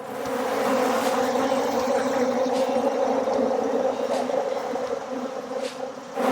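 Dense, steady buzzing of many agitated, aggressive honeybees close by, a sustained droning hum that hardly wavers from start to finish.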